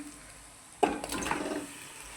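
Chicken dropped into a pan of sizzling ginger paste with tomato: faint quiet frying, then a sudden louder sizzle and stirring burst that carries on briefly and fades.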